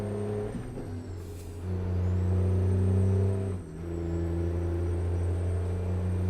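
A 650-horsepower truck engine in a trucking game runs through the Pacific Northwest, a loud steady low drone that dips briefly during gear shifts and then resumes.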